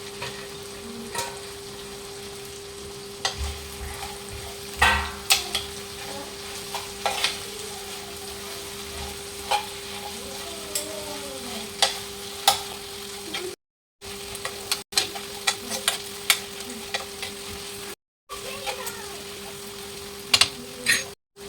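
Paneer is added and stirred in a frying pan for chilli paneer, sizzling softly under repeated scraping and clinking of a spoon in the pan. Soft voices are heard at times.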